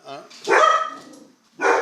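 Nearby dogs, one of them big, bark in loud repeated bursts with a brief pause before a final bark. Speech may be mixed in.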